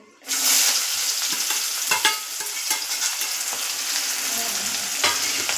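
Chopped, washed onion hits hot oil seasoned with asafoetida, bursting into a loud, bright sizzle that settles into a steady fry, with occasional scrapes and taps of a spoon stirring the pan; no talking.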